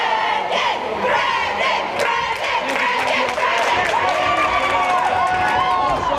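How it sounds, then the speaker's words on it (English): Crowd at a West Rutland vs Arlington high school boys varsity basketball game cheering loudly and steadily, with a dense roar of voices and shouts and squeaking sneakers throughout. "Brendan Harvey getting some love from the crowd here."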